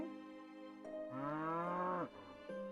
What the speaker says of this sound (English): That's a cow. That is a cow.